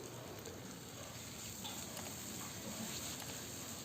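Ginger garlic paste sizzles steadily with onions in a hot pan while cooking egg gravy, a soft continuous crackle with faint stirring ticks and no voices.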